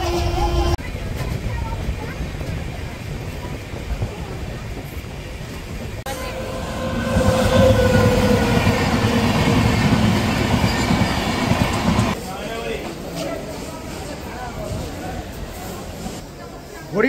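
Jammu Tawi Express passenger train running on rails past Dakshineswar, a steady loud rumble of wheels on track with rattling carriage noise that swells louder midway, with faint voices in the background.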